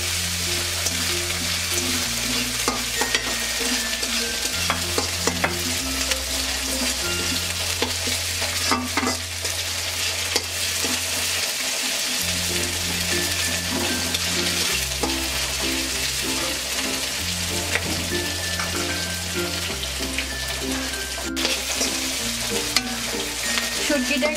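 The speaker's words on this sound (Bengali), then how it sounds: "এখন আমি শুটকিটা দিয়ে দেব, দিয়ে আর একটু নেড়ে নেব।" Dried chepa shutki fish and browned onions fry in a pan for a taro stolon curry, a steady close sizzle with continuous stirring scrapes and clinks throughout, while a low tonal hum runs underneath.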